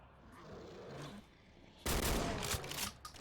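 Gunfire in a survival video game breaks out abruptly after a quieter stretch, as a dense, loud burst of shots runs on for over a second and then tapers away.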